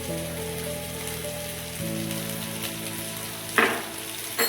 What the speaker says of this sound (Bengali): এটিকে ভালো করে কষিয়ে নেব